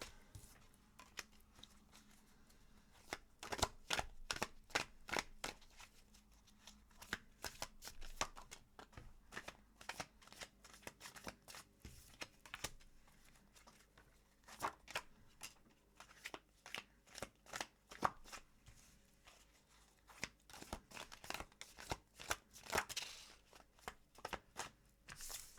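Tarot cards are shuffled in a quiet room: quick bursts of riffling and soft slapping clicks come close up, repeated in irregular runs with short pauses between.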